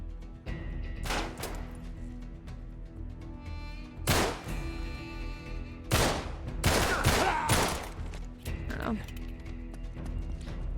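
Rapid bursts of automatic machine gun fire in the video game Uncharted 3, loud repeated volleys with heavy thumps, mixed with other game sounds and a voice talking over parts.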